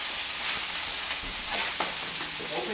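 Steaks frying in a hot pan, a steady broadband sizzle running throughout with a few sharper spits and crackles, close and alone without talk.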